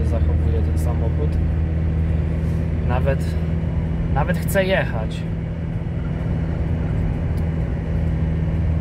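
An Opel Frontera B 2.2 DTI diesel drones steadily while climbing a hill, the low engine hum heard from inside the cabin, with someone talking briefly over it.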